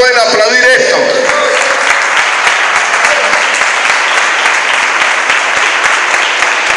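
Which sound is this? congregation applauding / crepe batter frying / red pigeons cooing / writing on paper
congregation applauding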